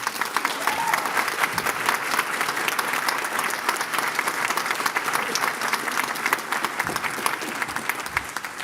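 A crowd at a New Orleans business meeting and awards event applauds the organization's past president, steady dense clapping filling the whole stretch at a fairly even level.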